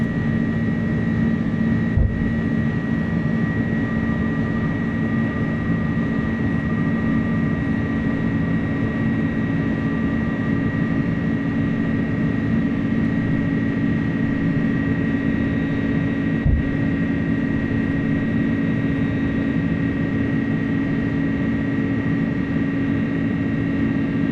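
Jet engines of an iniBuilds Airbus A300 FedEx freighter climbing out of Oakland in Microsoft Flight Simulator, a loud, steady cockpit drone with a constant whine that holds unchanged throughout, with no talk.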